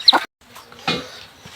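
A large brooding hen clucks in two short, close bursts, the first sharper and louder, with a quieter stretch between them.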